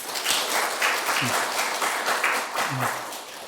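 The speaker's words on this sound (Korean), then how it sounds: "박수로 한번 우리 환영하고 축복합시다" Applause from a church congregation welcoming a visiting pastor during a service, a steady wash of many hands clapping together at fairly close range with a faint voice underneath.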